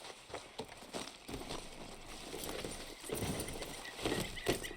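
A horse's hooves clip-clop at a steady walking pace in Red Dead Redemption 2, fairly close and even in rhythm.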